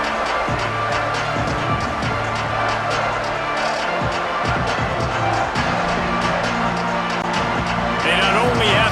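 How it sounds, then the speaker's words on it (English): Stadium crowd noise in the video game EA Sports College Football 27, a dense continuous roar and cheer of a large crowd during a late-game third down, with a commentator talking over it. "the noise from this crowd on 3rd and 4"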